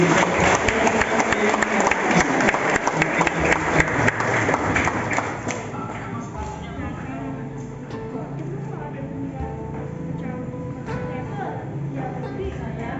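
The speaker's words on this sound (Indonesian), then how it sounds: "Dan berikan tepuk tangan sekali lagi." Wedding guests at a ceremony clap in a dense burst of applause for the first several seconds, then it fades to scattered taps and quieter room sound.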